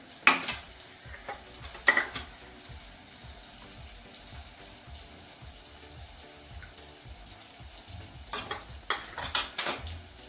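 Gram flour dough with spices is mixed by hand in a bowl for Kathiyawadi gathiya nu shaak, heard as soft, close rubbing and scattered clinks in short bursts with quiet gaps between.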